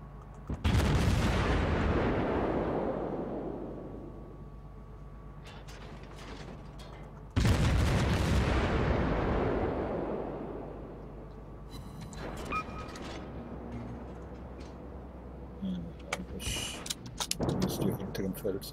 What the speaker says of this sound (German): jetzt wird da mal irgendwie ein Schuss weggehauen.